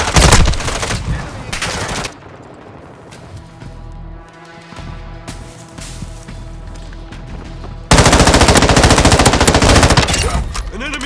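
Heavy automatic gunfire from Call of Duty: Modern Warfare II roars in dense, loud sustained bursts at the start and again near the end, with quieter battle ambience and distant shots in between.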